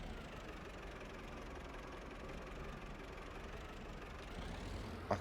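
Tractor engine in the farming video game Farming Simulator 25, a steady low idling rumble held at an even level throughout, with no talk over it.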